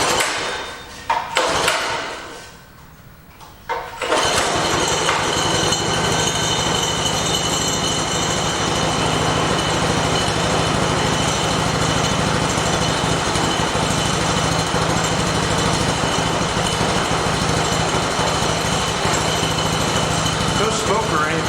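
A small mini bike engine in a farm shop sputters to life after a few seconds of handling noise, then runs steadily and loudly at a fast, buzzy idle for the rest of the clip.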